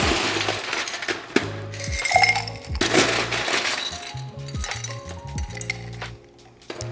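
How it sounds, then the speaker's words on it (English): Ice cubes tumble into a cocktail glass while a grapefruit Paloma is built, giving a run of bright clinks and rattling knocks in irregular bursts, close and fairly loud, tapering off at the end. "And we're gonna fill this up with some ice."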